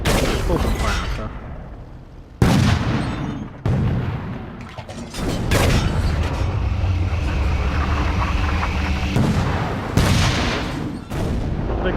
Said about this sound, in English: Open fire, sir.